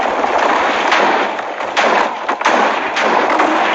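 A huge mass of TNT blows up in a video game, a loud rolling chain of booming blasts and crackling detonations piling on one another with no pause.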